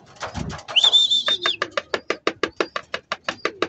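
A racing pigeon arriving home from a 311 km race makes a short whistle-like call, then a steady run of quick, evenly spaced cooing pulses, close and clear.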